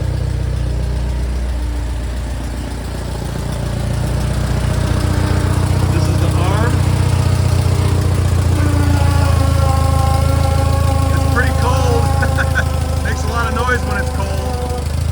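A 1968 Allis Chalmers D15 industrial tractor engine runs at a steady idle, its low rumble continuous and close throughout, with someone talking over it and faint whistling squeals from the hydraulics toward the end.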